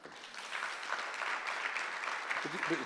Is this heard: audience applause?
yes